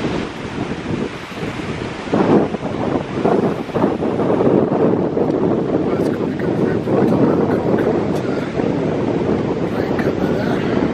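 Strong wind buffets the microphone outdoors near a railway line on the coast, a loud continuous rushing roar with gusty surges throughout.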